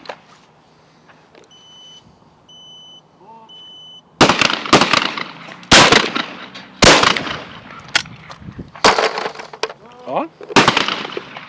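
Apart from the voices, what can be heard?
Webley & Scott XSP air rifle shots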